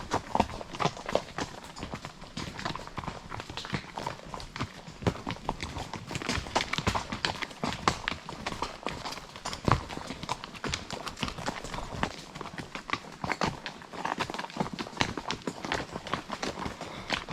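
A horse walks briskly under saddle, its hooves clip-clopping in a steady, fast rhythm close by throughout, with faint occasional rider sounds.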